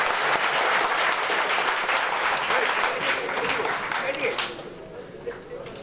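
A crowd claps steadily at the DUAA-MTB Samson H. Chowdhury Campus Journalism Awards 2015 ceremony, a dense, loud wash of applause that holds for several seconds before thinning and fading near the end.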